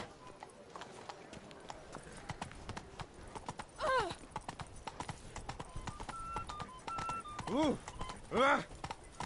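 Roach, a horse in The Witcher 3, clip-clops along at a quick, even pace, hoofbeats close and rhythmic, while a few short whinnies rise over the steps and a man briefly exclaims.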